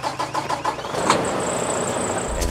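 A big truck's engine cranks briefly, then catches and settles into a steady, close idle that rumbles on alone.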